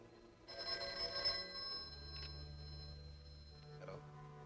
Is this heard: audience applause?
no